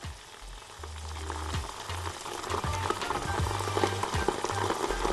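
Tomato paste sautéing with onions in a hot pan, a steady close sizzle and crackle that grows slightly louder, with occasional low stirring thumps.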